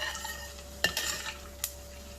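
Whole spices roasting in hot oil for a Sindhi mutton curry give a steady low sizzle, broken by a few sharp clinks of a spoon stirring in the pan.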